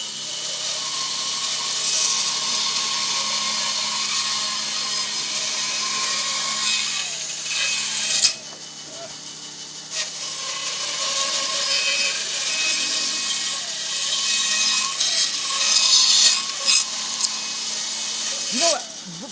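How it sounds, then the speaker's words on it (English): A bandsaw cuts through wood in a workshop, a steady loud buzzing rasp that runs continuously, drops out briefly near the middle, then resumes with sharper bursts toward the end. "Bandsaws really don't scare me, but they definitely, I respect the hell out of them."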